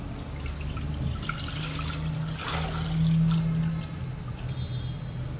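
Full-fat milk, 1.5 litres, pours steadily into a pot in a continuous stream for a few seconds, swelling briefly in the middle before easing off.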